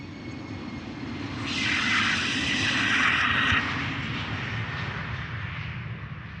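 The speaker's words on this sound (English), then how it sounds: "KLM Embraer 190 going to Aalborg, if I recall correctly." A KLM Embraer 190 jet departs Amsterdam Schiphol, its engine roar swelling into a loud, sustained rush before easing slightly as it holds on, heard from close range without talk.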